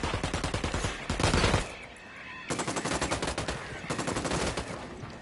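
Video game firefight gunfire: dense automatic bursts of shots, a short pause in the middle, then more sustained rapid fire, loud and close.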